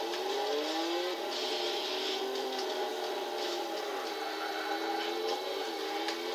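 A Volkswagen Golf IV R32 in Gran Turismo 6 accelerates, its simulated engine note rising steadily through the revs at moderate volume with no talking.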